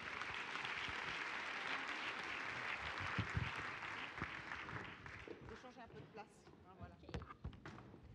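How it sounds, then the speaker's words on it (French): An audience at a women's forum event applauds loudly at first, the clapping thinning and fading after a few seconds as voices and movement take over. "Merci de les applaudir toutes les trois."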